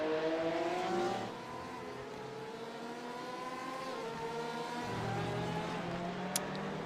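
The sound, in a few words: Porsche race cars driving in iRacing, a video game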